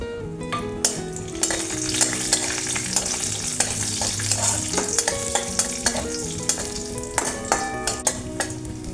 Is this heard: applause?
no